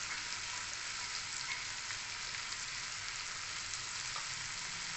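Paneer masala with tomato roasts in a kadhai, giving a soft, even, continuous sizzle that stays low and unbroken throughout, with no voices.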